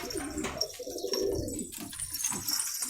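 A yellow gülü pigeon coos close by in a few soft, rolling calls over about three seconds, with faint background noise.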